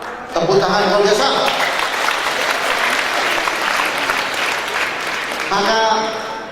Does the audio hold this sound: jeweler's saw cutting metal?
no